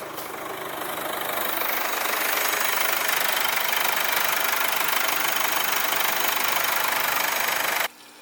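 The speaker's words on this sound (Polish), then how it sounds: "Jak silnik pracuje sobie na wolnych obrotach" A car engine idles steadily and loudly nearby with a rough, even knocking rumble, then cuts off abruptly at the end.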